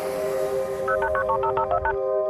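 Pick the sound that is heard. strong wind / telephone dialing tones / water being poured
telephone dialing tones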